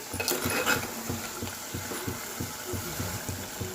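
A ladle stirs ginger-tomato paste into goat head meat in a pot, producing a steady rhythmic series of soft thuds and scrapes, close and repeated about twice per second, with no talking.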